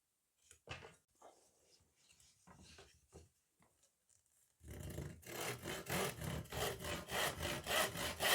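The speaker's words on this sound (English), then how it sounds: "and then we'll cut the trim and it should fit in there nicely." Handsaw cutting wood trim to length: quiet scrapes and taps of setting up, then a rhythmic run of about a dozen loud, close back-and-forth rasping strokes.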